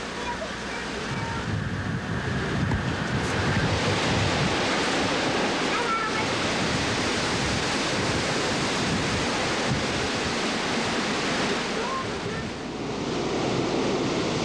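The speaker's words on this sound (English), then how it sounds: "You can hear that wind." Strong, roaring hurricane wind blowing continuously with gusty surges and buffeting against the microphone, loud and broadband throughout.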